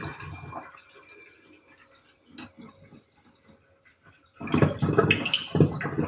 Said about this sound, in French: Je filtre. Je vais récupérer tous les grains dans ma passoire.